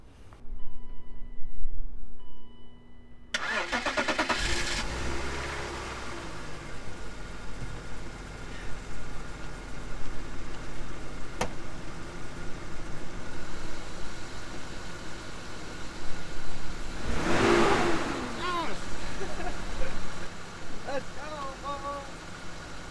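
A BMW E34 with a newly fitted battery cranks and fires up near the start, then settles into a steady running idle with a swell of revving around the middle; the engine holds up close and continuous throughout.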